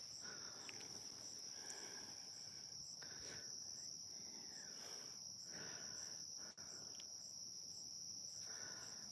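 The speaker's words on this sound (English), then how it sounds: "But you can hear the crickets and everything." Crickets chirping on an evening at a campsite by fishing water, a steady high continuous trill that holds throughout, fairly faint and with no talking.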